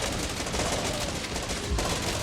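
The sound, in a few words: sniper firing, from video game Infection Free Zone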